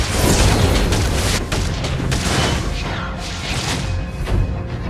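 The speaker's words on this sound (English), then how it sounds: "destroyed a turret!" In the Mobile Legends game, a turret is destroyed with a loud, dense explosion: a booming burst that dominates the opening and then settles into a rumbling roar with scattered crackles, heavy and close throughout.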